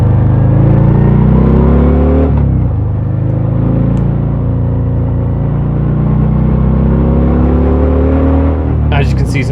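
A 2023 Harley-Davidson Sport Glide 107 motorcycle is ridden, its engine giving a loud, close, steady rumble with one brief dip in pitch like a gear change, under continuous wind noise and someone talking.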